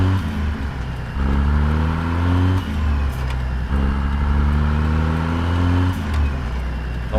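Tuned 800 HP Cat C16 in a Peterbilt truck with 8-inch straight pipes roars close and loud as it accelerates, climbing through gear pulls in repeated rising surges with short shift breaks between.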